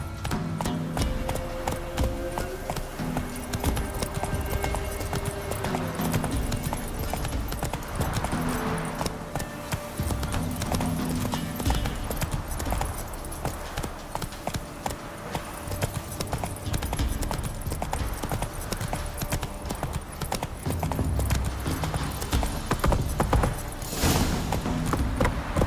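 Horse hooves clip-clop steadily through a galloping run in The Witcher 3, a continuous rhythmic patter layered over busy game sound and music for the whole stretch.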